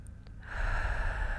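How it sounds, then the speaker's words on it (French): A deep breath drawn in slowly during a hypnosis relaxation session: a soft airy inhale rises after a brief quiet start and holds as a steady, close breathy rush to the end. "Prenez une première grande respiration"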